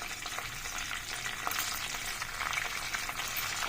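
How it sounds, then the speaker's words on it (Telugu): Ginger-garlic paste sizzles and fries in a hot pan for an onion and fresh coconut curry, a steady close crackling hiss with no talking. "ఇప్పుడు అల్లం వెల్లిగడ్డ పేస్ట్ వేసుకున్నాను."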